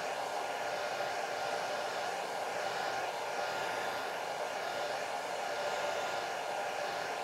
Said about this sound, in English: for demonstration purposes, use a blow dryer